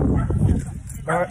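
A dog yips and barks close by during a bike ride, short excited bursts mixed with whimpering, with a person's voice and laughter around it.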